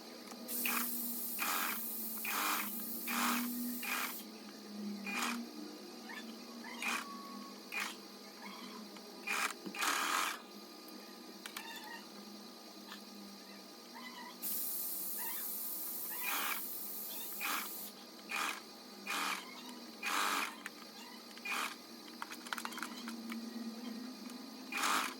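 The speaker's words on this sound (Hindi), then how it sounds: "तो हमने सेंटर से सिलाई लगानी स्टार्ट करनी है और नेक के एंड तक हमने कंठी को जॉइंट करना है।" A sewing machine stitching a kurti neck piece, repeated short runs of fast mechanical whirring and clatter, close and fairly loud, separated by brief pauses.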